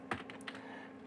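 A few quick, quiet keystrokes clatter on a computer keyboard while C code is typed, close and dry with no talking.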